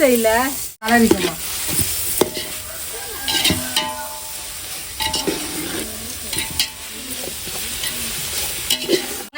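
Biryani masala with mint sautéing in a pan, loud continuous sizzling with repeated spoon scrapes and clinks, while voices talk over it in the background.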